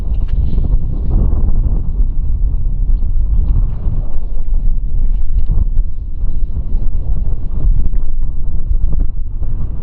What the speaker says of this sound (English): Little windy today.